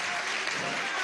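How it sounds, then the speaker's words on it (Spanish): A crowd at a graduation ceremony for secondary-school teachers of Venezuela's Micromisión Simón Rodríguez breaks into thick, continuous applause, close and even, with a faint murmur of voices mixed in. "Vamos a darle un aplauso a este nuevo liderazgo."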